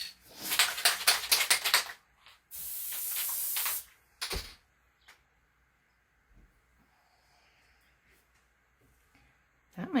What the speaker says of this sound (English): I'm going to try this spray adhesive.